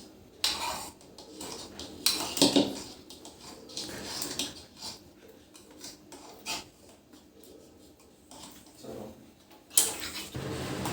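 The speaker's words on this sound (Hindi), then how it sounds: "आप चम्मच चलाते रहिए, जब ये गाढ़ी हो जाए" A spoon scrapes and clinks against a pot while stirring kheer, milk pudding thickening on a gas stove, in scattered bursts of metallic knocks and scrapes separated by quieter stretches.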